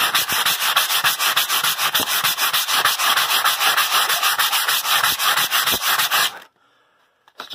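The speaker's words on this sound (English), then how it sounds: "I've been down here trying to sand this glue off. I've got, P100 grit sandpaper." P100 grit sandpaper scrubbing glue off a wall inside a Holiday Rambler Endeavor motorhome under remodel, loud rapid back-and-forth rasping strokes in steady rhythm for about six seconds, then sudden quiet and a final scrape.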